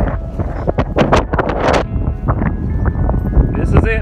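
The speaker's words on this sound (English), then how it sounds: "Well, that wind is still blowing." Gusty storm wind buffets the microphone outdoors in rural Morrow County, Ohio, as a storm approaches, with rough broadband rushes and a brief voice-like sound near the end.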